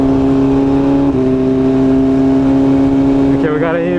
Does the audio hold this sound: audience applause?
no